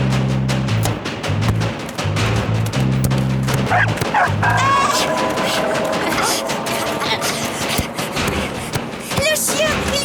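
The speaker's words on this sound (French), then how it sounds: "Il y a un chien sur le terrain!" A dog barks and yips repeatedly on a street football pitch, the short bursts cutting through a busy, noisy scene with voices and commotion around.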